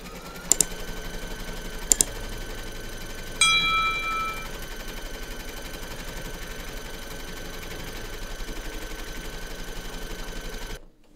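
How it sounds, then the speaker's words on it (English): Embroidery machine stitching the second securing round of a large Surfing Santa design in a hoop with batting, a few sharp clicks and then a fast, even, rhythmic needle clatter running steadily for several seconds before stopping. "Pop your hoop into your machine and stitch round number two to secure it."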